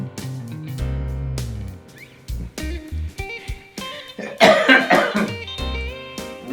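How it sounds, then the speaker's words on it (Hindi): A man with flu and a cold coughs: a cluster of rough, hacking coughs near the end, over tonal background music. "फ्लू भी हो गया और खांसी भी लग गई ठंड की वजह से"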